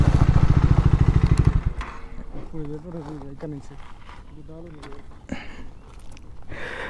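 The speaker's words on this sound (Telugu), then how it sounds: "బండి స్కిడ్ వేద్దాం అనుకున్నా, బట్ స్కిడ్ కావట్లేదు బండి" A Triumph Scrambler 400X engine roars loudly at close range in a pulsing rev during an attempted skid, then drops to a quieter running note as a voice exclaims over it.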